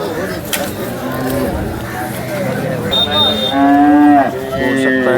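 A large cow moos loudly several times at a cattle market, long drawn-out lowing calls close by, with people chatting faintly in the background.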